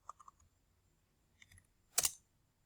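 Computer keyboard keys in a quiet room: a few light taps, a brief pause, then a louder cluster of clicks as enter is pressed, close and crisp, with no talking.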